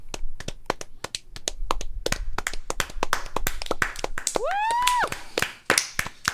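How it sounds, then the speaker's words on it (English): Two podcast hosts clap their hands in a quick irregular burst of close, sharp claps, with a short whoop-like vocal slide in the middle and brief talk mixed in. "Can we get a round of applause?"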